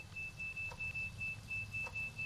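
A ghost-hunting SLS device gives a faint, steady electronic tone with a few soft beeps over low background hum, quiet and alone.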